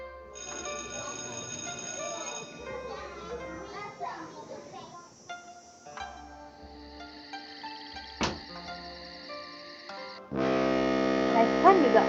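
An alarm clock rings in the Nancy Drew: Shadow on the Water's Edge video game. A loud, steady electronic ring starts near the end and follows softer game sounds and background voices.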